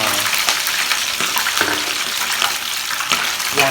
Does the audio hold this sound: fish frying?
yes